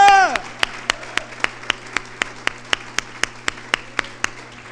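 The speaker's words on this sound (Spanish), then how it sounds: "Dele un aplauso al Señor, porque Él es merecedor de la alabanza." Church congregation clapping during a sermon, sharp claps in a steady, even rhythm after a brief sung or spoken tone at the start.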